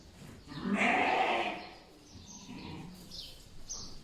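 A ewe sheep that has birthed quadruplets bleats once loudly at close range for about a second, followed by softer animal calls and faint chirps in the background.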